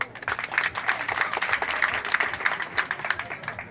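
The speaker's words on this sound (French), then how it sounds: "on applaudit." Crowd clapping at an outdoor political campaign rally in Cameroon for Paul Biya, with fairly steady, moderately loud applause over a few seconds and faint voices mixed in.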